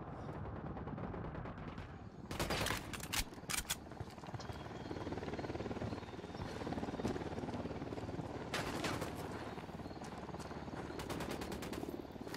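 Gunfire and a helicopter in the video game Ghost Recon Wildlands: a constant rotor rumble runs throughout, broken by loud bursts of rapid automatic fire near the start, middle and end.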